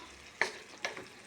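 Two quick scraping stirs of egg mixed with vegetables in a pan, each a sharp, close stroke that trails into a faint sizzle, with no voices.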